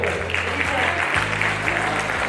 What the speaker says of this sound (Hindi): तो एक बार तालियां बजा दीजिए